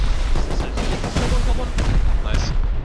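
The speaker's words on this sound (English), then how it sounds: "Pound a bit here for like a few rockets." Rockets fire and detonate in Rust in a heavy, continuous barrage of booms and gunfire-like blasts during a large base raid defense, with a voice talking over the din.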